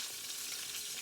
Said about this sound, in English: Now you hear that frying up.